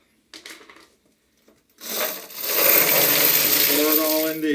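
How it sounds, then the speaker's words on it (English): Small steel pins are poured out into a Frankford Arsenal media separator in a long, continuous clattering rush after a few brief knocks and rattles, loud and close. "pour it all into here, give it some bangs, get all the pins out"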